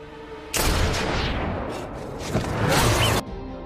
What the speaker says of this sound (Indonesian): Brandon melakukan tembakan pertamanya dan hampir saja mengenai El Diablo.